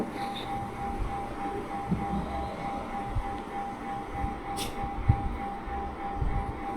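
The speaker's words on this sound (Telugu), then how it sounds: "ఇప్పుడు ఆపద్దాం ఎందుకంటే రైలు మళ్ళీ" A train rumbles past nearby, a steady low rolling rumble with a faint sustained tone and occasional clanks, heard without speech.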